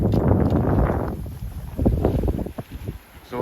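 Sailboat under way at about 6.5 knots crossing the Bay of Biscay from Ireland, loud gusty wind rushing and water washing past the hull, easing off midway into irregular splashes and knocks.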